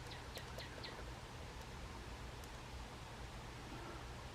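Faint, intermittent bird chirps come from outside a window, a few quick calls early on and then sparse tweets over a steady indoor hiss.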